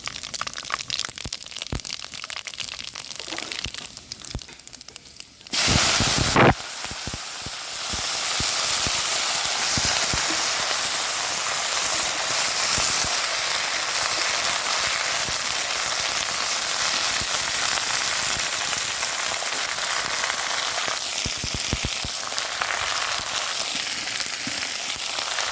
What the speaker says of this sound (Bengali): তেল গরম হয়ে গেছে আর এখানে ফোড়নে দিচ্ছি তেজপাতা আর শুকনো লঙ্কা